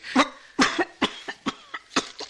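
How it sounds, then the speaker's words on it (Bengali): A person in a radio drama coughs in a rapid fit of about eight harsh bursts, each quick and close, with no talking over them. "অসহ্য অসহ্য তোমার খুব খুব কাশিটা।"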